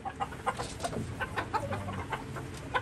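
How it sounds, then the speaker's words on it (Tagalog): Chickens cluck repeatedly in short, irregular bursts, several birds close by on a fourth-floor poultry farm, against a steady background hum. "talagang quality yung mga manok na nandito."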